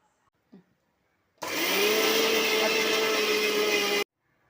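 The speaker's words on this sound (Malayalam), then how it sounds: "നമുക്കിനി ഇത്രയും കൂടി ഒന്ന് മിക്സിയുടെ ജാറിലിട്ട് അടിച്ചെടുക്കാം" A kitchen mixer grinder whirs loudly as it grinds turmeric powder and other ingredients in its jar, a steady high-pitched motor roar lasting about two and a half seconds before stopping abruptly.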